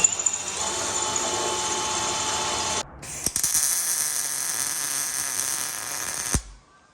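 A power drill grinds paint off a steel spot weld on the frame of a wrecked 2021 Ford Bronco during a rebuild. The whine runs steadily and close, breaks off briefly near the middle, then starts again and stops abruptly.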